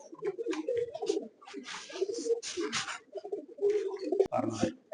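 Pigeons at a racing loft coo in repeated throaty phrases, near and fairly loud, with a sharp knock near the end.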